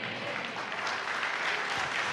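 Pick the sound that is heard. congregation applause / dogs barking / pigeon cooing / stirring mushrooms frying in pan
congregation applause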